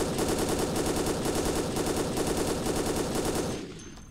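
Upgraded gun in the Dead Effect shooter firing a rapid, steady automatic burst, loud and close, with evenly spaced shots for about three and a half seconds before cutting off into a brief quiet tail.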